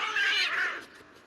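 A feral cat living among the ancient ruins of Trajan's Forum in central Rome gives a single drawn-out, fairly loud meow that fades away within about a second.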